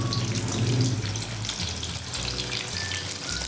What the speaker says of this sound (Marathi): चला याला आपण आता डीप फ्राय करूया.